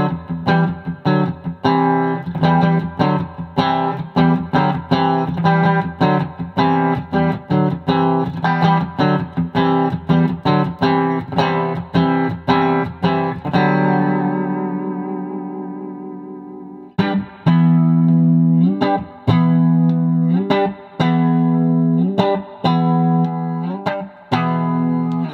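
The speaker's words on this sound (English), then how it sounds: "this is just a clean amp with a little reverb" Electric guitar played with strummed chords and picked notes, a clean tone with light reverb; one chord rings out and fades before playing resumes.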